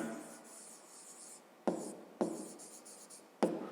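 A math solution is written out by hand with soft scratchy strokes, punctuated by a few sharp taps, quiet and close with no voices.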